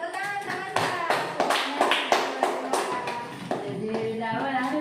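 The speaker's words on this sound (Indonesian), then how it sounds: "tepuk tangan teman-teman" Classmates in a classroom clap their hands in a quick run of sharp claps with voices over them, then a second round of claps follows.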